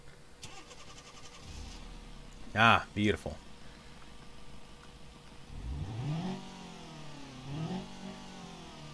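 A van in the BeamNG.drive driving game cranks and fires up with a short burst, then settles before its engine rises through a couple of revs, while someone briefly speaks.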